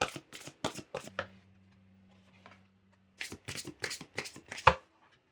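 Oracle cards being shuffled by hand, several close, crisp riffling bursts, then a pause with a low steady hum, then more quick shuffles ending in a sharp tap.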